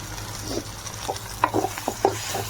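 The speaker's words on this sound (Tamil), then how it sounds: "போட்டு நல்லா வதக்கிக்கலாம்" Ginger garlic paste sautéed in a pan, a soft sizzle broken by a few close spoon scrapes and clinks as it is stirred, with no voices.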